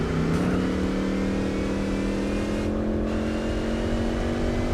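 Car engine accelerating in the video game Gran Turismo 4, a steady loud drone with a held engine tone that climbs gradually, continuous throughout with no voices.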